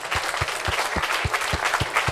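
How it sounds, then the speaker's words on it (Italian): Applause at a Sardinian sports awards ceremony for the Amsicora women's team, a room full of steady clapping with a few sharper, heavier claps standing out at a regular pace. "Un bel applauso"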